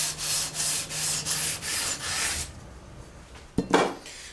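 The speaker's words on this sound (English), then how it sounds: "I would take my sanding beam and I'd go back and forth over it just like this" Sanding beam rubbed back and forth over guitar frets while leveling a guitar neck, a steady run of about seven close, rhythmic abrasive strokes that stop partway, followed by a single brief knock.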